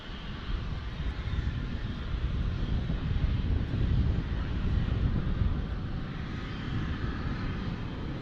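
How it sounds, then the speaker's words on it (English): An Embraer E-175 airliner lands at Dallas Fort Worth International Airport, its engines a steady, broad low roar that holds evenly throughout, mixed with light wind buffeting on the microphone. "E-175 landing"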